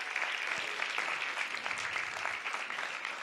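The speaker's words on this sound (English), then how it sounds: "let's give your council member a big round of applause" Applause for the Ward 3 council member at an elementary school third grade showcase, a dense, even clapping from a room full of people, steady and moderately distant for the whole stretch.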